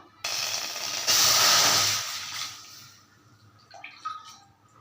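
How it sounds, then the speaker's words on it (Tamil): Water poured from above into rice flour in a thick-bottomed pan: a loud, steady hissing splash that swells midway, then tapers off into a few faint clinks and drips. "அதுக்கு ஒன்றரை பங்குக்கு தண்ணி ஊற்ற போகிறோம்"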